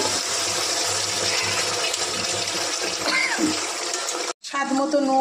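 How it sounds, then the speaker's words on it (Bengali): Water is poured into a hot pan where a fish head fries with bay leaves, giving a loud, steady sizzling rush that cuts off abruptly near the end before quieter cooking sounds resume. "জল দিয়ে দেবো।"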